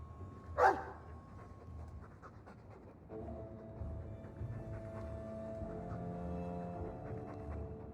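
A Mabari war dog in the Dragon Age 2 video game pants faintly under soft background game music, after a brief sharp sound near the start.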